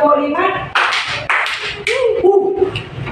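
In a tenth-grade Indonesian-language class, a counting chant in Indonesian is punctuated by sharp hand claps, several claps spaced through it and sometimes in quick pairs, loud and close, with voices chanting throughout.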